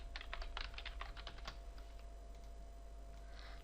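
Keystrokes clatter on a computer keyboard in a quick burst of typing, then thin out to a few sparse taps over a quiet room hum.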